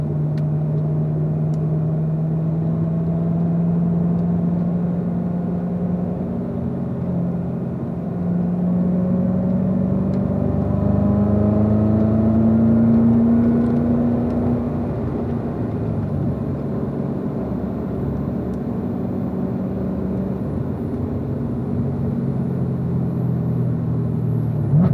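A car engine on a warm-up lap, a steady close rumbling drone with gradual rises and falls in pitch as it accelerates and shifts, continuous throughout.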